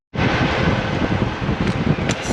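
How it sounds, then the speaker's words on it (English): Strong wind roars steadily across the microphone on a large car dealership lot, a dense rushing noise with gusty swells and no talking. "Super windy out here today."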